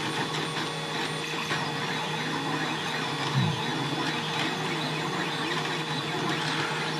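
A Fulcrum Minibot 1.0 children's 3D printer runs steadily, its stepper motors whirring and humming with a soft mechanical drone and faint repeating movement sounds, alone without speech.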